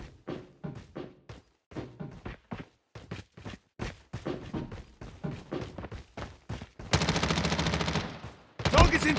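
Gunfire erupts during a gun fight in the video game Rust, with scattered single shots and thuds giving way to a loud, dense burst of automatic fire near the end, then a final heavy blast.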